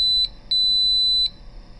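Buzzer on an Arduino microwave controller with a TM1637 4-digit display gives three sharp high-pitched electronic beeps, the middle one long and the outer two short, over a quiet hum.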